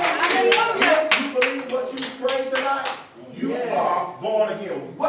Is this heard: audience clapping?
yes